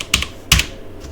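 A computer keyboard clicks with a few quick, close keystrokes as a password is typed, two main taps and a faint trailing one against quiet room noise.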